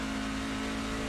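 A NASCAR Truck Series race truck in the iRacing simulator at Auto Club Speedway, its engine droning loud and continuous at a wavering pitch as the throttle is worked unsteadily, with no one speaking.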